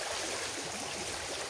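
Waves wash onto a beach shore at night, a dense steady rushing hiss that fills the moment with no talk over it.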